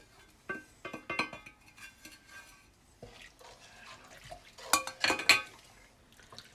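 Spices for piccalilli (mustard powder, cumin, cayenne pepper, turmeric, ginger, black pepper) stirred into a pan, with close, irregular scraping and clinking of a utensil against the metal, a louder burst of clinks near the end.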